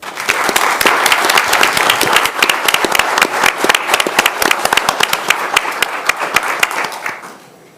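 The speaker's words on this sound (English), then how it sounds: "So please give them another round of applause" Loud applause at a city council meeting: a room full of people clapping steadily for several seconds with dense, sharp individual claps, then thinning out and fading at the end.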